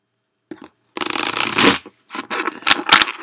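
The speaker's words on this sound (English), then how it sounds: "I'm just giving the cards a good old shuffle." A deck of tarot cards shuffled by hand, a quick tap followed by a loud riffling rush and a few crisp flutters, close and clear.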